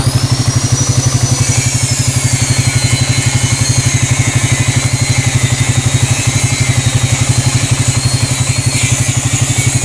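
A Yamaha Vixion motorcycle engine with a dried-out radiator runs at a steady idle, loud and close, its fast even pulsing rhythm joined by a constant high whine across the whole stretch.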